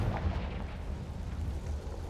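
Booming fire-spell blast from the Confringo curse in Hogwarts Legacy, a dense, rumbling low roar that fills the whole stretch without a break and stays loud and close.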